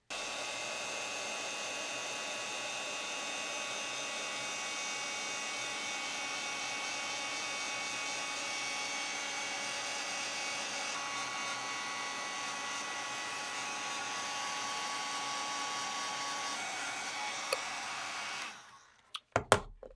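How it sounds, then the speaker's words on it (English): Crafting heat tool blowing steadily to melt embossing powder on a card, a continuous close whirring fan drone lasting most of the time before cutting off with a few clicks at the end. "Let's get the heat tool warmed up and we will melt that powder."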